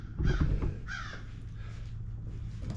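Crows cawing outdoors, a few loud harsh calls near the start followed by fainter repeated caws, with a low steady hum underneath.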